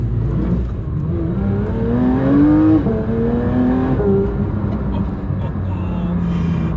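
A Porsche 911 GT3 992 on Cup 2 tyres accelerates in sport mode, engine note rising and falling through gears in a loud, close-miked interior, with a continuous rumbling drone underneath.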